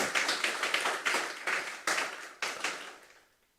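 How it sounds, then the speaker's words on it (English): An audience at the Mayaro Legacy Awards breaks into a round of applause, dense clapping swelling in several bursts over a few seconds before fading out at the end. "Let's give him a round of applause again."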